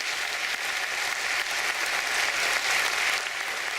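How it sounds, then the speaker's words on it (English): Steady, full applause from an audience at an electric cooperative's 2015 annual meeting, sustained dense clapping that swells slightly near the end, with no talk over it. "I'd like to have a round of applause for our principal, Blake Fry, and his staff."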